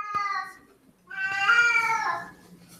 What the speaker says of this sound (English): That sounds like he likes to caterwaul.